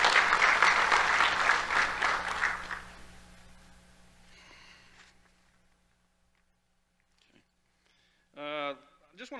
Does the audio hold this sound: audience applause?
yes